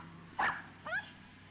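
A dog in the 1954 film Rear Window lets out two short, high whimpering yelps about half a second apart over a quiet background hum.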